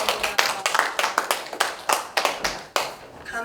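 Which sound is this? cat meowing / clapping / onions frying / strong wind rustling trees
clapping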